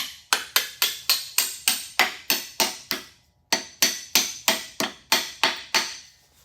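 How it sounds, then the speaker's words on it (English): Hammer blows striking high-value engine cylinder heads on a 1952 Chevrolet truck motor project, sharp metallic strikes in a steady series of about seventeen, with one brief pause midway, loud and close. "It's high dollar heads and we're using a hammer on them."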